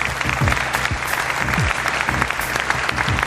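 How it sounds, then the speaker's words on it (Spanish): A studio audience at a mystery-themed talk show applauds a guest with dense, continuous clapping, loud and steady, over a low rhythmic musical bed with occasional swooping tones. "Les pido un aplauso para él"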